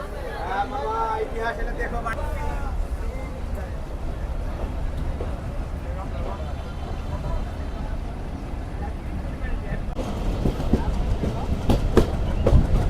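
A Punorvoba Commuter local train pulls away from Kakonhat station in a steady, loud rumble of wheels and carriages that grows slightly toward the end, while someone talks over the noise early on.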